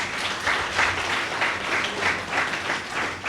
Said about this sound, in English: for this they deserve a round of applause